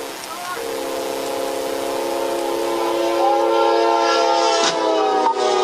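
A train horn blares loud and sustained with a steady chord as the train bears down on a patrol car stopped on the tracks, growing louder toward the end with a hiss and clatter, while people shout over it.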